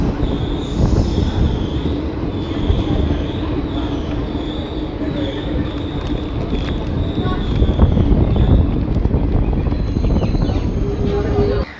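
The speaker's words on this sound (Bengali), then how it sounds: "ট্রেন হাসিমারা পৌঁছে গেছে।" The Siliguri–Bamanhat InterCity Express standing at Hasimara station, a continuous mechanical hum and rolling rumble with a steady whine, under background voices and ambient station noise.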